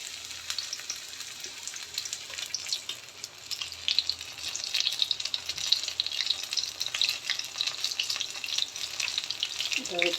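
Loitta (Bombay duck) fish cutlets fry steadily in hot oil, giving a continuous crackling sizzle with scattered pops that grows slightly busier over about ten seconds.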